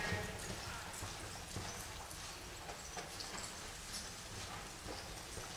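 Faint, rhythmic clip-clop of horse hooves in an arena with stands during a riding clinic in Winona, Minnesota, steady and somewhat distant, with low background noise.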